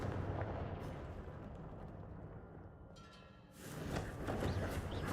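The Confringo blasting spell goes off in the Hogwarts Legacy video game, a deep, rumbling explosive roar that eases off briefly before a second sharp blast surges back up.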